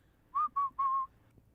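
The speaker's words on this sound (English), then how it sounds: "that's when I start whistling" Three short whistled notes, the last held longest, clear and close against a quiet background.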